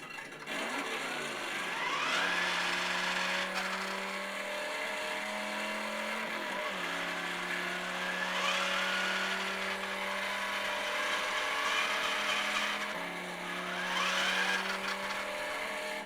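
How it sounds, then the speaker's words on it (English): Engine sound effects from a Mattel Ultimate Batmobile RC car toy, wheels spinning freely while held up, with rising revving whines and a steady electronic engine drone that repeats in several cycles. "it makes all the engine sounds accurate to how you're using it."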